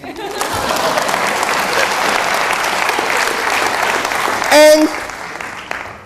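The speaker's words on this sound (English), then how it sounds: "Give me a clap" Audience applause fills a business convention hall, steady and sustained for several seconds, with a brief voice cutting in near the end.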